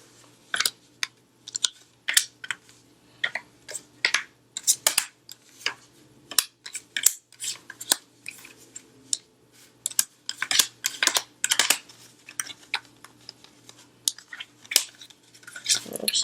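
Tarot cards being shuffled and handled while being put back, with irregular close taps, flicks and slaps in uneven bursts throughout, and some faint speech mixed in.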